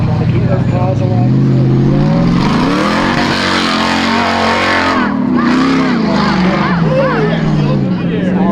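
An off-road race car at King of the Hammers grinds through a boulder field, its engine loud and revving in surges, with a commentator talking over it throughout.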